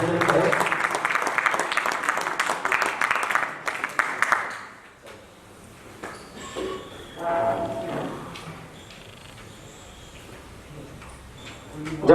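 Applause from the audience at a seminar marking Swami Dayanand Saraswati's birth anniversary, welcoming Dr Dharmendra Kumar Shastri. Dense clapping fills the first few seconds, then stops and gives way to quiet room noise and faint sounds.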